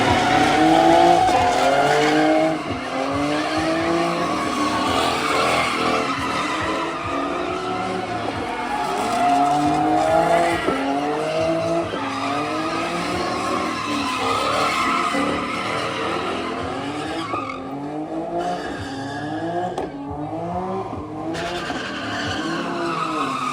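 A loud widebody Dodge Hellcat Charger at a Houston legal pit, engine revving hard in repeated rising and falling surges while the tires spin and squeal continuously for the whole stretch.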